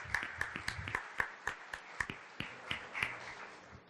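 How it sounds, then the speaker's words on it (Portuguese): A small audience at an informal gathering gives a short round of scattered handclaps, a dozen or so sharp claps that thin out quickly, fairly quiet. "Salva de palmas."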